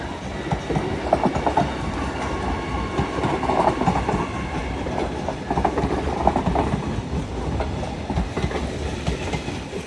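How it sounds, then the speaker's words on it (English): A Class 802 passenger train arriving at Doncaster station rumbles steadily past at close range, wheels clattering over rail joints with a continuous heavy roar and no voices. "Arriving in now is your 1330 Hull Trains Paragon service from London King's Cross to Hull."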